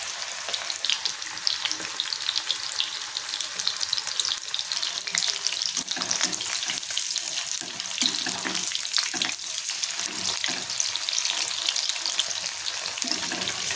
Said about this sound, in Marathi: आपल्याला छोटे छोटे सोडून घ्यायचे त्याच्यामध्ये आणि फ्राय करून घ्यायचे आहेत